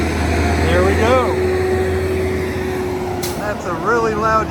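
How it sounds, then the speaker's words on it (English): A loud UPS delivery truck rumbles past a Supercharger station, its low engine drone steady and close throughout, with people talking briefly over it. "That's a really loud UPS truck."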